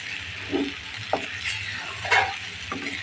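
Snakehead fish sautéing with spices in a pan gives a soft steady sizzle, broken by a few scraping stirs and light clinks of a utensil against the pan.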